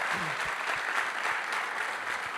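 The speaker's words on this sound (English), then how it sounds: "Make a huge round of applause for KK, please." An audience at a music conversation event applauds steadily, a dense, even wash of clapping with a few louder individual claps near the front.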